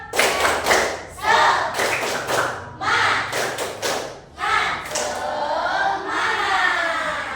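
A school class claps the tepuk semangat routine in rhythmic grouped bursts, with sharp synchronized claps between chanted voices, loud and close.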